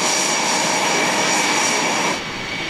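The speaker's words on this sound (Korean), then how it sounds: "KF-21이 엄청난 굉음과 함께 엔진을 가동하고 있는데요." The engines of a KF-21 fighter jet run up on the ground at an airbase, a loud continuous roaring whine that fills the clip and eases slightly near the end.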